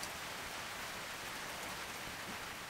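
Steady rain patters on a tin roof at a camp in the Australian High Country, a dense even hiss with no pauses, filling the space.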